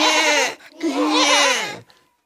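Sheep in a pen give two loud, wavering bleats close by, one after the other with a short gap, and then fall silent.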